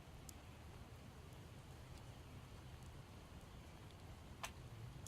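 Light, steady rain falls in the Project Zomboid game world, a faint continuous hiss with a few soft drop ticks and no voices.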